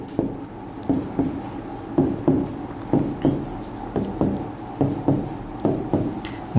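Chemical formula bonds are written on a board in short, rhythmic scratching strokes, roughly one or two per second, each distinct and close by with no talking over them.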